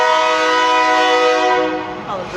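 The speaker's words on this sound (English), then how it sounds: "The train's coming, apparently." A train horn blares loud and close in one long, steady, multi-tone blast that holds for about two seconds before wavering and dropping off, with no voices.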